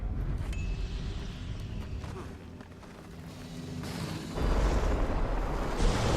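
A magical Bloodstone explosion and tremor rumble in a video game, a low sustained roar that dips and then swells into a louder, heavier rumble near the end.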